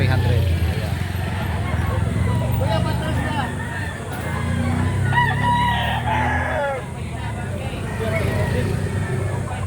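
Roosters crow repeatedly and chickens cluck at a busy poultry market selling fowl in Lipa City and Padre Garcia, Batangas, with steady crowd babble and voices throughout and several overlapping crows standing out midway.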